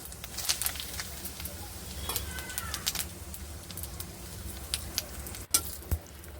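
Cumin seeds and kasuri methi spices crackle in hot oil in a kadai, a steady close sizzle with occasional sharper pops and light clatter over the hissing base.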